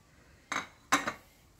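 A metal spoon stirs sausage and potato in a pan, giving two short, close clinks and scrapes against the pan with quiet gaps between them.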